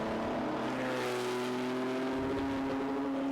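Group A tribute racing car accelerating hard at a circuit, its engine note rising steadily in pitch as it pulls away, loud and continuous with no voices over it.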